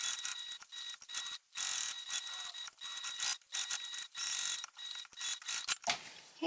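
A sewing machine stitches a seam on a small fabric card pouch, giving quiet, clicking, ratchet-like mechanical bursts that start and stop repeatedly with brief pauses, heard alone without speech.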